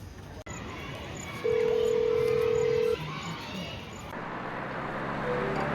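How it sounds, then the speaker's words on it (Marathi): A phone being dialed to call someone gives a steady electronic tone lasting about a second and a half partway through, loud and clear above a low background hum. "मी बाबांना फोन लावून विचारतो"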